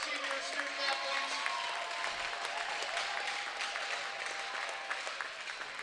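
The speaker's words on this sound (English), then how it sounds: "Let's have a nice round of applause for all of our 11 outstanding senior student athletes." Crowd applause and cheering at an indoor high school ice hockey game, Hilton versus Irondequoit, honoring senior student athletes; steady dense clapping fills the whole stretch with a faint tone running through the middle.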